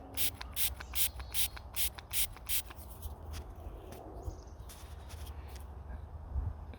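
Several quick, hissing bursts of spray in a rapid series, then quieter rustling and faint handling noises.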